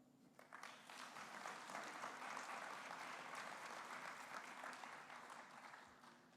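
An audience applauds the mayor of Grenoble at the opening of an international conference in Cocody, with clapping that swells quickly after a quiet start, holds as a dense, even roar, then tapers slightly at the end.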